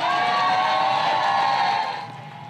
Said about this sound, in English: Huge applause from the crowd when the four present trustees voted to appoint the former Chicago mayor